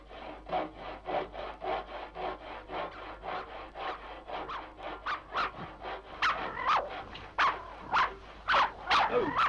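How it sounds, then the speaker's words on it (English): A hand saw cuts through wood in a sound effect on a 1967 vinyl record, giving even back-and-forth strokes that grow louder and harsher in the later strokes. "It's only Mr. Minton sawing wood."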